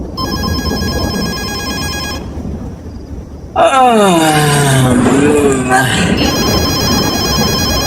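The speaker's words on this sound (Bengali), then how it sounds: "এত রাতে ফোন করছে কেন?" A telephone rings late at night with a repeating electronic tone, loud and close, broken by a sliding wailing sweep before the ringing resumes.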